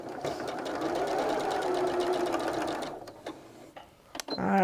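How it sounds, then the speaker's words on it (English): A sewing machine stitches a quilt block seam in a steady, fast, close run, then slows to a few separate stops and starts before a brief handling noise at the end. "Just gonna sew her up here."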